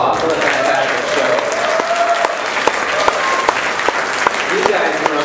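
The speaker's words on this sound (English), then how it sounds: "let's give them all a big round of applause" Steady, dense applause from a theatre audience after a Christmas show, sustained clapping for about five seconds with a few sharper individual claps standing out from the crowd.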